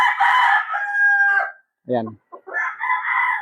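A six-month-old Bruce Barnett sweater pullet clucks and crows in a few short bursts close by, with someone speaking briefly between the calls.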